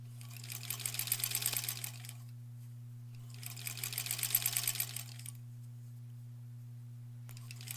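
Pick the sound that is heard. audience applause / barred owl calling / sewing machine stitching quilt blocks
sewing machine stitching quilt blocks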